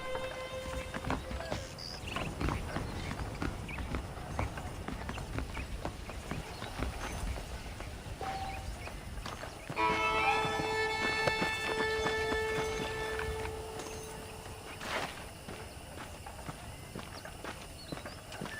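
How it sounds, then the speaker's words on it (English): Horse hooves clip-clopping on the ground in the Red Dead Redemption video game, a steady, moderately quiet trotting rhythm under a faint game soundscape. "The horses are saddled up over here."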